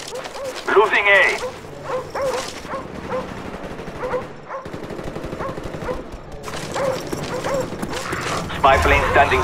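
Attack dogs in the video game Call of Duty Black Ops, barking and yipping in sharp bursts amid gunfire and game noise, with voices talking over them.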